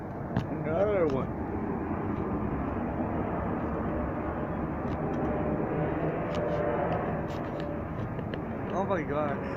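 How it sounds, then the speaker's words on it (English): A jet plane passes overhead at night as a steady, broad roar that fills the whole stretch, with people talking excitedly over it. "Jet passing by."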